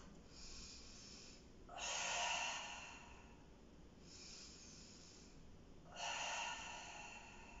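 Two slow breathing cycles during a gentle energising exercise session, each a soft nasal inhale followed by a louder, airy sigh out through the mouth, close and quiet, with no talking.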